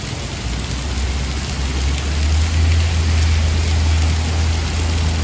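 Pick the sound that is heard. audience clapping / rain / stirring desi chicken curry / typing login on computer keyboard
rain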